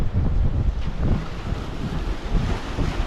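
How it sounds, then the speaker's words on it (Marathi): Steady rushing wind buffets the microphone over low rolling surf at a Mumbai seashore during cast-net fishing, a continuous loud roar of sea and gusts with no speech. "लाटा पण जबरदस्त येत आहेत"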